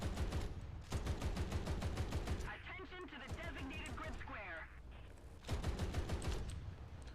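Rapid bursts of machine-gun fire from a Pansarbil m/40 armored car in the War Thunder game, loud and close, firing in several long strings with pauses between, while someone talks over the shooting.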